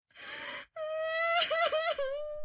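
A young girl cries loudly and close up, with a short breathy gasp followed by a long, wavering wail that rises and falls in sobbing breaks.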